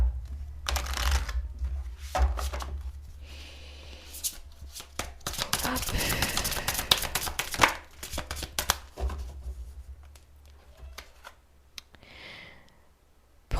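Oracle cards of Archangel Michael shuffled by hand, a busy run of riffling, rustling bursts that swells in the middle and thins toward the end, close and fairly loud with no talk over it.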